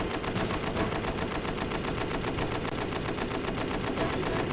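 A gunner's machine gun in the Metal Gear Solid video game fires a continuous rapid rattle, loud and close, with evenly spaced shots and no talk over it.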